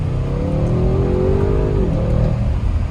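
Audi sports car engine in dynamic manual mode revving up, a close, loud, rising growl whose pitch climbs steadily then drops sharply as it shifts, continuing at a steady roar.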